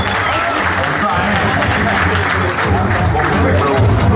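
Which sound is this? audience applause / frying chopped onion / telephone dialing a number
audience applause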